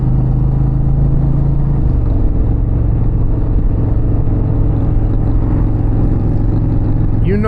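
Indian Challenger motorcycle exhaust while riding home on a Pennsylvania road, a steady loud engine drone with low rumble throughout, a brief pitch shift near the start as the rider changes speed.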